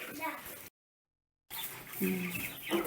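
Chicks peep and cluck in short bursts on a farm, with people talking nearby and a brief gap of silence.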